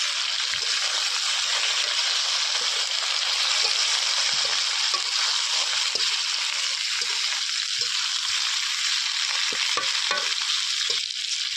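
Fried muthiya pieces are stirred into roasted masala in a pan, with a continuous loud sizzle and frying hiss and occasional soft scrapes and clinks of the spoon against the pan.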